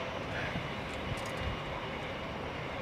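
An Airbus airliner arriving at Heathrow in windy weather, a broad, steady jet-engine roar mixed with gusting wind noise, fairly distant and without talk.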